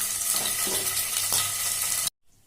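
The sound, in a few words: paneer pieces frying in a hot kadai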